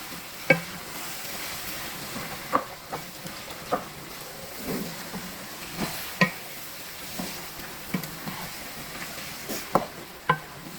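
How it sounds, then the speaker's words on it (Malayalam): A spoon knocks and scrapes at irregular intervals as masala-coated chicken is stirred in a pan, with a faint sizzle underneath. The spoon hits are distinct and close, and no one talks. "മസാല ആക്കി വെച്ച ചിക്കൻ നമുക്ക് അതിലോട്ട് തട്ടി നല്ലതുപോലെ ഇളക്കിയിട്ടിട്ട്"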